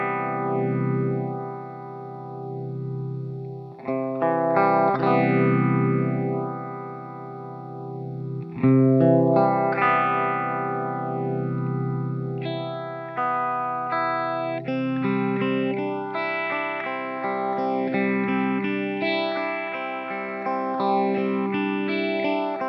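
ZVEX Candela Vibrophase pedal sweeping a phaser-vibrato warble across distorted guitar chords and riffs, the modulation gradually slowing from quick wobbles to long, lazy sweeps as the playing continues, loud and steady with no voices.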